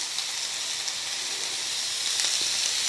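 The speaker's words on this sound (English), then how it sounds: "I'm going to put all of this into the skillet" Beef sizzles steadily in a hot skillet, a dense bright hiss of frying fat with small pops and crackles scattered throughout, close and continuous with no talking.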